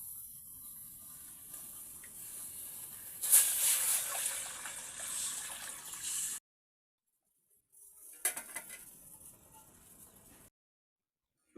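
Water pours into a cooking pot holding chicken pieces in two bursts, a rushing splash that swells, stops, then returns briefly with a few clinks.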